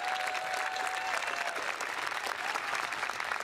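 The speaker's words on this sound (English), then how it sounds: "Please give them a round of applause." A high school spring concert audience applauds: dense, even clapping from many hands fills the hall throughout at a steady loudness, with no one speaking over it.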